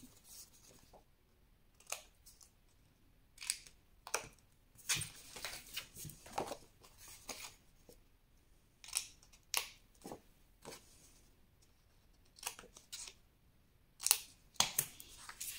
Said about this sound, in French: sur chaque petite bande de collage ici, vous pouvez couper légèrement en biais